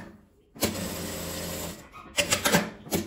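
A sewing machine runs in short bursts stitching around the edge of fabric scraps, a steady close whir followed by a few quicker stuttering runs, with no talking.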